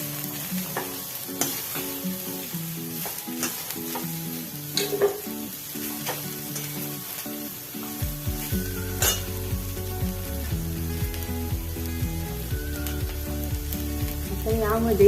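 Food sizzles steadily as it fries in a pan while being stirred, with a continuous crackling hiss and soft scraping of the spoon, close and even throughout.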